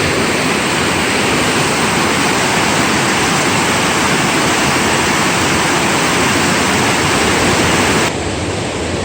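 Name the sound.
rushing stream at high water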